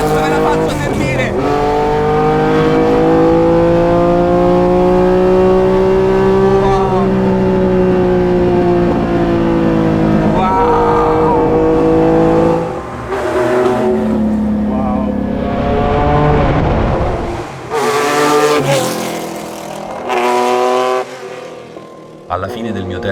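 A Lancia Stratos Alitalia Gr.4 rally car is driven hard through a valley, with its engine revving loud and close through climbing gear changes, sharp throttle blips and brief lifts.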